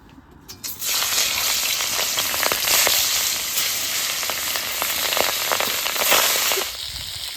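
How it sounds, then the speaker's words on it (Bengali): Boal fish seasoned with salt and turmeric drops into hot oil in a kadai, a sudden loud burst of sizzling that holds as a dense, crackling fry for several seconds, close and without talk. "তেলটা গরম হয়ে গেছে এবার মাছটা ভেজে নেবো"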